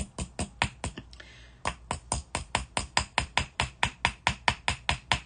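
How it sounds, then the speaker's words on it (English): A nylon hammer taps thick-gauge jewelry wire against a bench block to work-harden it, a steady run of about twenty even, crisp strikes close by, broken by one short pause. "we're going to put these on the block and I'm going to work harden with nylon hammer"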